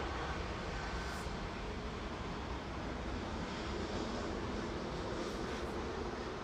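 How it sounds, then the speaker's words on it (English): A Ryanair airliner departs toward Cork from Manchester Airport, its engines a steady distant broadband roar that holds evenly throughout with no one talking. "That was Ryanair 767 to Cork departing"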